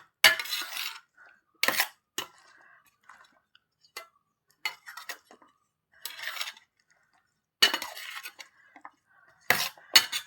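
Marinated chicken being mixed with cornflour in a bowl for a covakka fry, heard as scattered clinks and scrapes of a utensil against the bowl in short irregular bursts with quiet gaps between them, close up and without talk.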